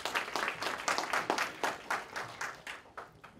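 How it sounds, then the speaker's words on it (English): An audience at a Capitol Hill policy forum on tax credits gives a round of applause for Senator Sherrod Brown, steady moderate clapping that gradually thins and fades over a few seconds. "I want to give a round of applause to Senator Sherrod Brown"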